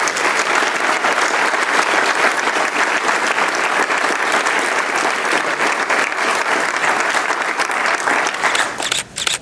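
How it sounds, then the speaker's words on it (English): Dense, sustained audience applause fills a press conference for Louisville's 10-year adidas deal, loud and continuous from start to finish with no talk over it. "share with me an incredible round of applause for an incredible group"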